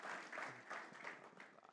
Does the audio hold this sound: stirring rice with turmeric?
no